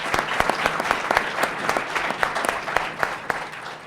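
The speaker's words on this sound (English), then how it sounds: "So please give our guests a round of applause." Audience applause for guests at a university healthcare debate, a steady dense clapping with sharp individual claps throughout, fairly close and continuous for a few seconds.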